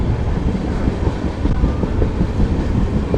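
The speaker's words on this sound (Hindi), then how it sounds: "हमारी ट्रेन इसको स्किप करते हुए आगे निकल रही है।" An express train, the 14505 Nangal Dam Express, runs fast through a small station without stopping, recorded from on board: a loud, continuous rumble and roar of wheels on rails with faint clickety-clack and wind buffeting, no voices.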